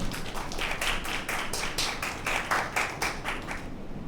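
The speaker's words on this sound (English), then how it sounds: "First, a round of applause." An audience gives a round of applause after a speaker shares a personal story, steady dense clapping at moderate level throughout, with no talk.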